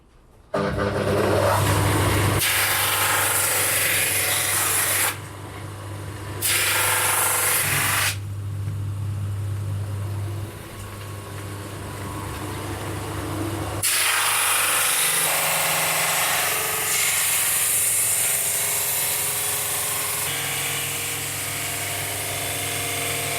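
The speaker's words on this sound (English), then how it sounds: "remove template and sand it flat with the drum sander" A drum sander flattens a guitar frame in a workshop, its motor whirring loudly in several bursts that start and stop, with a rough sanding rasp as the wooden workpiece passes through.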